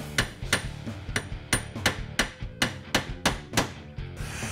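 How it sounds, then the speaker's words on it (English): A hammer taps a roll pin into a distributor gear, about a dozen sharp metallic strikes at a steady, slightly uneven rhythm, close and loud with no talk. "The final step is simply reinstalling the gear and making sure that you install the roll pin properly."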